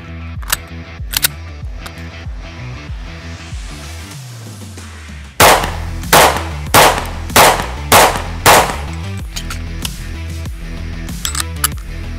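A Beretta APX Centurion pistol fires a quick string of about six loud, sharp shots on an outdoor range, evenly spaced and close, with a few fainter shots beforehand.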